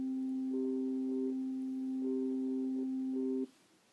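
Sonification tones for a picture of red and yellow maple leaves: a steady pure tone with harmonics, overlaid by brighter tone segments that switch on and off in three stretches, stopping abruptly near the end.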